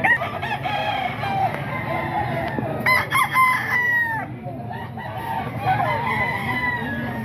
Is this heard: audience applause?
no